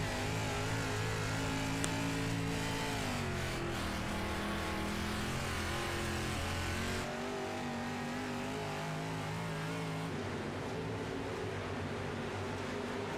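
Dirt late model race cars in the iRacing video game, engines droning loud and continuous with shifting revs as drivers brake and accelerate, with no voice over the engines.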